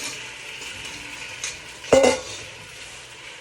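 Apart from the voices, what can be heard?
whole tomatoes sizzling in a pan for red sauce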